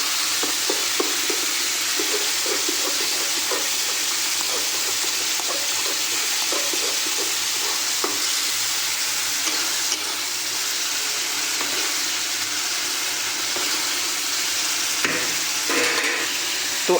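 Tomato chutney cooks in a pan as the tomatoes break down, with a constant close sizzle and frying hiss plus intermittent scraping stirs, and no talking over it.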